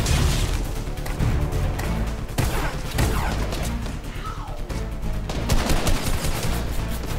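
Rapid gunfire in Fortnite, bursts of shots crackling almost continuously and loud throughout, with dense overlapping reports and occasional heavier impacts.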